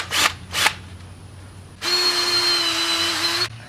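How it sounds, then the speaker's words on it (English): A power drill with a masonry bit boring into a concrete block wall while mounting a Ryobi 2HP garage door opener, with two short trigger blips followed by a steady, whining, high-pitched drilling run of about a second and a half. "This is block construction, so you do need a special drill bit to go through this"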